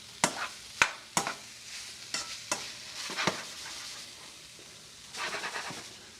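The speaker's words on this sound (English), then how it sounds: "Frying up the meat right now." Meat for spaghetti sauce fries in a pan with a low steady sizzle, broken by sharp clacks and scrapes of a utensil stirring it, close and moderately loud.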